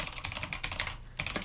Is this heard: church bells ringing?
no